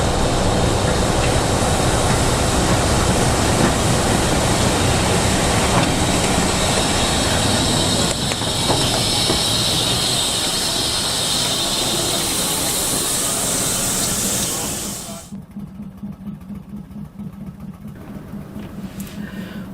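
A loud steam train roars past close by with rushing, clattering noise, then cuts away to a quieter rumble.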